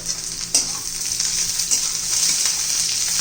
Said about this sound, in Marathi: सगळं चांगला कलर बदलेपर्यंत परतून घेणार आहोत